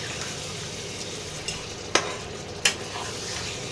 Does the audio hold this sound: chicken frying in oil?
yes